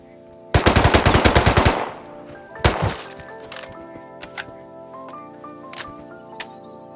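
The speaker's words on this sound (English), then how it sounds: "Hearing my turrets go off every so often" Auto turrets in the survival game Rust let off a long rapid burst of automatic fire, then a second shorter volley, followed by scattered single shots and thuds fading into the distance.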